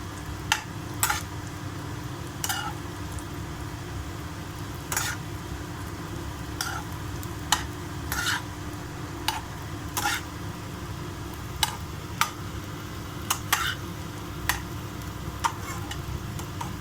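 Bread slices frying in hot ghee for double ka meetha, a steady low sizzle broken by sharp clicks and scrapes of a utensil against the pan, heard close with no talking.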